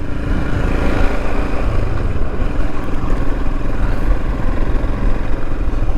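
Royal Enfield Himalayan motorcycle engine droning steadily while riding down narrow Cornish lanes, loud and continuous with wind rumble and a constant low throb, no talking.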